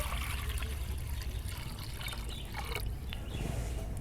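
Water pours steadily into a pressure cooker for boiling dal, with a continuous trickling splash that is close and fairly quiet and holds steady for the whole stretch.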